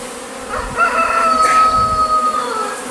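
Honey bees in a package buzz steadily and close by, a continuous droning hum with one bright sustained tone, during a package install.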